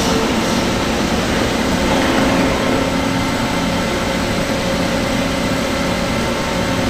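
A Toshiba BTD13FR22 CNC horizontal boring mill running in a machine shop gives off a loud, steady, unbroken mechanical drone and hum for the whole stretch, with no clear shift and no voices.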